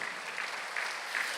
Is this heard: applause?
yes